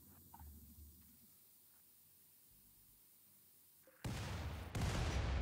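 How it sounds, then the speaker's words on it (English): After a quiet stretch of low rumbles, two sudden loud explosions burst in a game, each followed by sustained roaring noise. "explosions all around."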